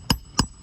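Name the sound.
hammering new nails into roof shingles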